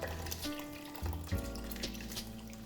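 Creamy soup base being poured into a crock pot of cooked potatoes and stirred in, a close wet sloshing and liquid stirring with soft utensil scrapes, steady and fairly quiet with no talking.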